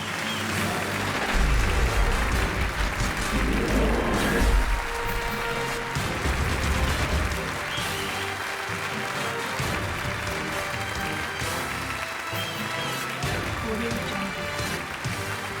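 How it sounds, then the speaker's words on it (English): An audience at a startup accelerator conference in Beirut applauding competition winners, a sustained wash of clapping mixed with amplified music and crowd noise, steady and fairly loud throughout. "Big applause for the winners of the competition."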